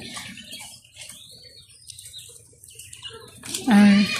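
Short quail calls and chirps from inside a pigeon cage mixed with background noise, ending in a louder, sharper call up close.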